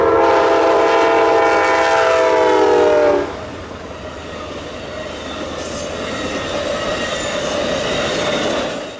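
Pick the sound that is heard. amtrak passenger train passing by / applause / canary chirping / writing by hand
amtrak passenger train passing by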